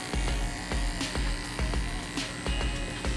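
An electric hair clipper buzzes steadily during a haircut, a close, continuous motorized hum with rhythmic pulses as it works around the head.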